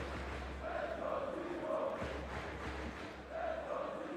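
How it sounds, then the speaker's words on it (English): French fans cheer in the arena during a Counter-Strike major quarter-final on Inferno, their rhythmic chanting and crowd roar swelling and easing in waves, with a dip near the end before it rises again. "They've been cheering since the beginning of this match, and now they're getting rewarded for it."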